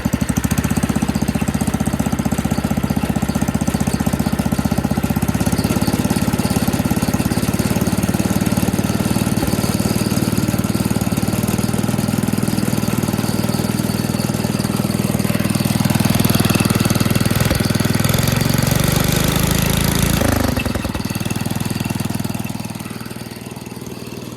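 A Cub Cadet Original lawn tractor engine runs loud and close with a steady rough, knocking drone, then revs higher before easing back down near the end, no talking.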